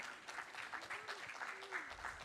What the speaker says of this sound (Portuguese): Palmas. Aplauda o seu monitor aí.